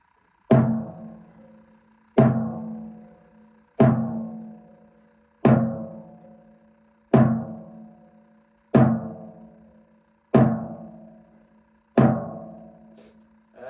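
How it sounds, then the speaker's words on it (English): Floor tom on a drum kit struck eight times at a steady, slow pace while fingers press hard on the head, each hit a close, loud, short thud with a dampened, quickly fading ring. "I use my fingers, pressing them hard on the floor tom."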